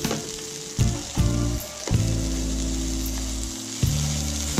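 Browned onions sizzling loudly in a pan, a close steady crackle broken by a few stirring scrapes.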